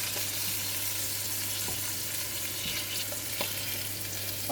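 A salmon steak fries in a pan with a constant, even sizzle, and faint pops and ticks come through now and then.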